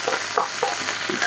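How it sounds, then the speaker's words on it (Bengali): Prawns being fried in oil for chicken fried rice, giving a close, continuous sizzle with short bursts of crackle and a few stirring clinks across a brief moment. "চিংড়ি মাছটা দিয়ে দিতেছি।"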